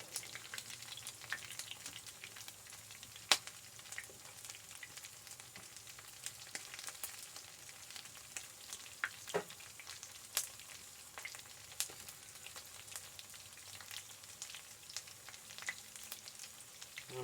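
Cheesy bacon grits fry in a pan of oil, giving a steady close sizzle with scattered pops and crackles throughout and no voices.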